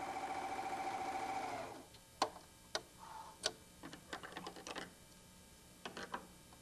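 A White Superlock 634D serger runs a 5 mm seam through medium-weight woven fabric with a steady, fast mechanical whir for nearly two seconds, then stops, followed by scattered clicks and taps.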